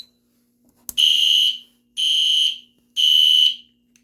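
A shop smoke detector on a fire alarm system under test sounds three loud, even electronic alarm tones, each about half a second long and spaced about a second apart, over a faint steady hum.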